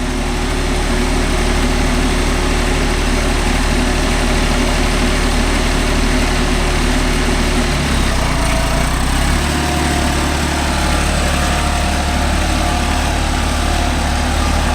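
A Deutz-Fahr 80 hp 4WD tractor engine runs steadily while pulling a five-point cultivator through farmland, a loud continuous drone that deepens in pitch partway through, with no voices.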